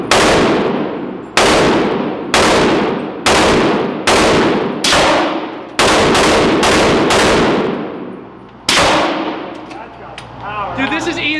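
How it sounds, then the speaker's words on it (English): Loud, close rifle shots from a SCAR at a shooting range, about nine single reports spaced roughly a second apart, each with a long ringing decay. Voices murmur faintly at the end. "I shot the Scar light"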